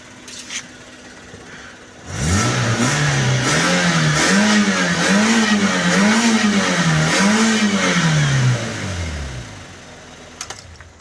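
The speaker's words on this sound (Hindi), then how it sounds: "ये ऑटो चोक इंजन है, अपने वक्त के साथ साथ आवाज़ थोड़ा सा एडजस्ट करेगा" A Suzuki Jimny fitted with an M15 VVTi DOHC auto-choke engine revs up loudly and close by, its pitch rising and falling in several repeated swells over about seven seconds before dropping back toward idle.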